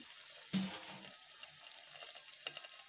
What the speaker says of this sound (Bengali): এইভাবে বেসনে ভরিয়ে নিয়ে আমি এই পুরো পেঁয়াজগুলোকে এইভাবে ছাড়ছি।